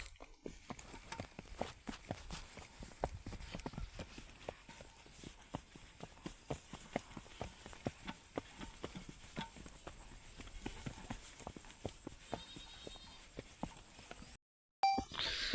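Steady clip-clop of a horse's hooves on hard ground, a continuous rhythmic clatter with outdoor noise, briefly cutting out near the end.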